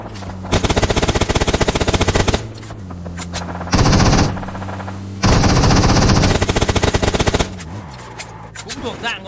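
Automatic gunfire crackles in the mobile game PUBG Mobile, loud bursts of rapid shots broken by short pauses, with a faint voice underneath.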